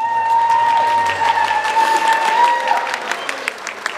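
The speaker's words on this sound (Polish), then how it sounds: "Wielkie brawa!" Audience applause at an outdoor instrument fair during a folk music festival, steady dense clapping for about four seconds while a sustained tonal instrument drone hums faintly underneath.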